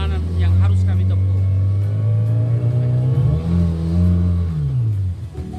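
Steady drone of a boat engine on a jungle river, loud and close, holding a low even pitch that wavers slightly as it labours, with people talking over it.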